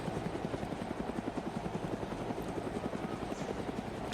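Chinook twin-rotor helicopter in the military game ArmA 3, its rapid rhythmic blade thump steady and continuous throughout, close and dominant with no voices over it.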